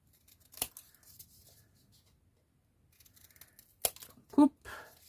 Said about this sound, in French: On prend nos ciseaux.